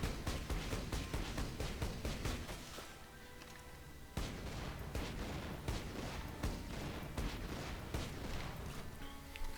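A Torgue assault rifle in Borderlands 2 fires a rapid stream of explosive shots, loud and close, with a brief lull partway through before the burst of firing resumes at the same fast rhythm.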